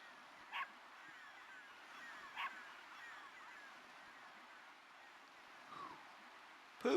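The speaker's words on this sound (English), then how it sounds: "I don't know why they named the dog Pooch, but there it is" Dog in the Legend of Dragoon video game giving a few short, faint barks and a whimper over a quiet ambient background, with a louder yelp at the end.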